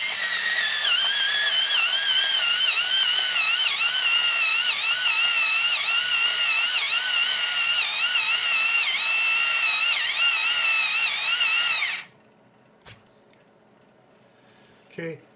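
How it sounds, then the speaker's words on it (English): A battery-powered electric pencil sharpener grinding a pencil, a steady high-pitched whine that sounds strained under load, running for about twelve seconds before cutting out, followed by quiet and a faint clack. "It doesn't really seem to have much power. I'm going to try one more."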